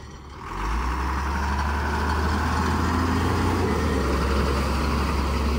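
A Ford F-650 boom truck engine starts up and then runs continuously with a loud, steady low rumble while driving, close and unbroken, with no talking.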